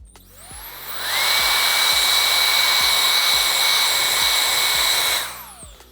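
A hair dryer spins up, blows a loud, steady whooshing roar for about four seconds while blow drying hair, then winds down, close to the listener.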